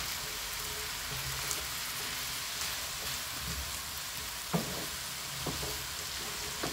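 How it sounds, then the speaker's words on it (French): Peppers stirred in a frying pan while cooking mesemen filling, a soft, low sizzle with a few scattered scrapes and taps of the utensil, fairly quiet and close. "Je viens rajouter tous les poivrons. Et je remue à nouveau."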